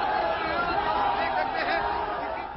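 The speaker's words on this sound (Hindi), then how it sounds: "बाबा जहां जा रहे हैं उनके पीछे भक्तों की भारी भीड़ चल रही है" A dense crowd of devotees at Baba Bageshwar's event in Patna, a steady murmur of many voices blending into a continuous hum of chatter.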